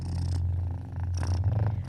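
A house cat purrs steadily and close while cradled in someone's arms and carried up a flight of stairs, a soft continuous low rumble with faint rustling over it.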